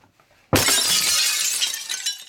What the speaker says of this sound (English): I accidentally threw it at the wall because I got mad at the person over there.